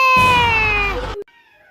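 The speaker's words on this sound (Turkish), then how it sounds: "Kedi sesi nereden geliyor ya?" A cat gives one loud, drawn-out meow lasting about a second, close and clear, followed by a faint trailing tone.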